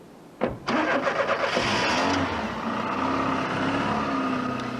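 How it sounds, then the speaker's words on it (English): A red Ford Escort starts up close by. The starter cranks briefly, the engine catches, and it revs with rising and falling surges before settling into a steady running note as it pulls away. "They got in a red Escort and there was already a driver waiting for them."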